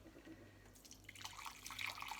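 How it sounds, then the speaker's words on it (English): Hot water poured into a soup pot with stock for pea and ham soup, starting partway in as a splashing, bubbling stream that grows louder and stays steady, close and alone. "So there's 2 pints of water going in there"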